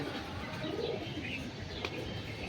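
Pigeons coo softly inside a loft, the low murmuring calls blending into a dense, continuous background with a faint chirp standing out near the end.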